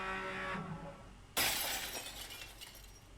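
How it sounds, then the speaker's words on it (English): A sudden loud crash of shattering glass and cracking metal as pirates burst through a cargo bay barricade, following a faint hum, then a bright crackling tail of debris that slowly fades. "A loud crack of metal and glass rings through the room as the pirates burst through the newly made opening and into our barricade"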